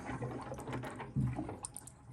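Water from a tankless 800 GPD NU Aqua reverse osmosis system pours into a sink, a faint, steady splashing trickle with a small surge partway through.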